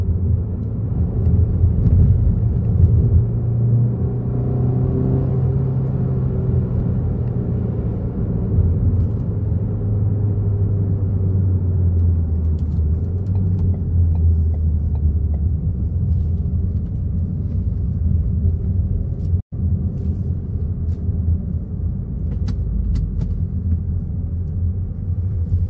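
A remapped Ford Focus 2.0 with a Powershift gearbox accelerates hard, its deep engine rumble rising steadily and loud over the whole run, with one brief dropout near the end and no talk.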